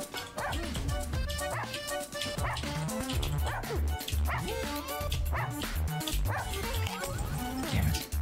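Dog barking in the video game Russian Subway Dogs: rapid, repeated yips and bow-wows over busy, continuous game music and effects, loud and close throughout.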